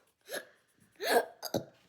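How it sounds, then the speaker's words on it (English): A girl hiccups three times at close range, each a sharp, breathy catch, the last two coming quickly together in an otherwise quiet room. "Why do you have the hiccups?"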